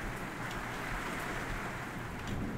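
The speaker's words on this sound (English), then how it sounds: "while the rain gently pours down in the background" Steady rain in a Roblox game world, a soft, even, continuous hiss of falling drops with no break, faint and alone.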